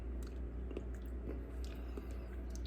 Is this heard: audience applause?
no